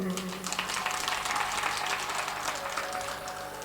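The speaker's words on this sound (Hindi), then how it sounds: "जोरदार ताली बजाओ।" Crowd at a Shrimad Bhagwat Katha gathering claps loudly and continuously, a dense close patter sustained throughout with some voices underneath.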